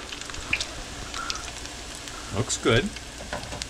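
Hushpuppies fry in hot oil with a soft, steady crackle and sizzle close by, punctuated by a few sharper pops, while a person speaks briefly near the end.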